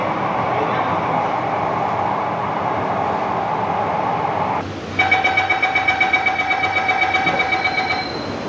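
An underground metro train in Mumbai rolls to a stop at Santacruz station with a steady rumble, then a sudden shift to a pulsing, beeping door chime as the doors open.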